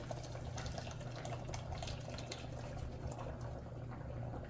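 Gravy mix liquid being poured slowly and steadily into a pot for Pioneer country gravy, a continuous close liquid pour with a low steady hum beneath it.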